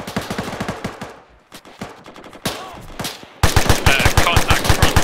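A GPMG general-purpose machine gun firing on a field exercise: rapid bursts of sharp, loud shots in steady rhythm, a short pause broken by single reports, then a sustained, heavier burst to the end.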